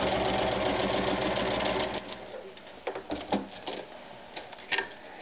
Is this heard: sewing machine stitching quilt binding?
yes